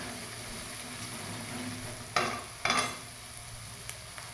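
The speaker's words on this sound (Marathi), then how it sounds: "आता लसूण, कांदे, खोबरं पेस्ट तेलात फ्राय झालं, त्याच्यात 2 चम्मच धना पावडर टाकूया." Garlic, onion and coconut paste frying in oil, with coriander powder added, gives a steady soft sizzle throughout and two brief louder bursts of stirring or scraping in the middle.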